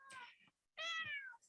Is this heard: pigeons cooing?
no